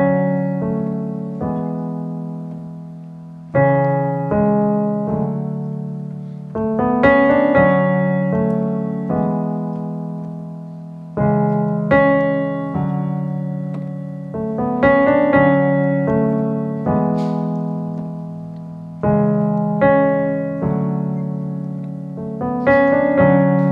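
A piano plays the recurring theme of a song, repeating a slow, sustained chord pattern with a melodic line, with each chord ringing out and decaying before the next phrase. No one speaks.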